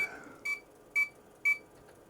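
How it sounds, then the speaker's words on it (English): An IBM PC 5150 floppy drive under alignment testing gives three short, evenly spaced electronic beeps about half a second apart. They are close and fairly loud over a faint hum. "The beep is there to indicate how many sectors are being read per track."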